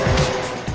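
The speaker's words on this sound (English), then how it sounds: "At number five, Speedy Squirrel versus Lamborghini" A Lamborghini speeds past in a short burst, a loud close engine roar with a hint of tire noise that swells and quickly fades.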